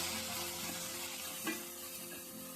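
Tomatoes cooking down with turkey berries for a sundakkai curry give a steady, soft sizzle in the pan, with a brief stir scrape partway through and no voices.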